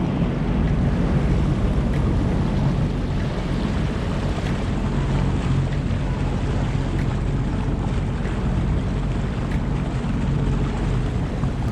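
A Sea-Doo GTX 155 personal watercraft idles or moves slowly on Lake Ontario, a steady low engine drone mixed with water wash and strong wind buffeting the microphone throughout.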